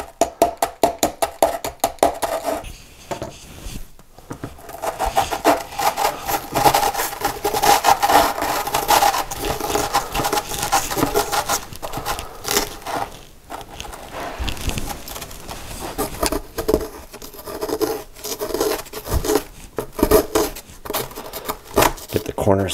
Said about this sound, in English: Maybe I'll use the end of my screwdriver to kind of dig into it a bit.